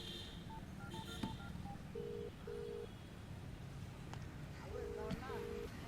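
Telephone dialing tones: two quick runs of short electronic beeps, about half a dozen in all, over steady background noise and a low murmur.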